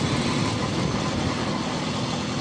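Motorbike engine labouring under load, a dense, rough low rumble holding steady and close for a couple of seconds with no talk over it.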